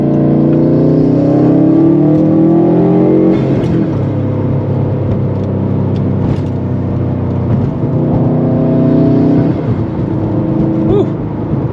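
Subaru STI fitted with an FP Blue turbo accelerating under boost, a steady close engine drone with rising harmonics that dip and climb again through gear changes, heard from inside the car with no talking.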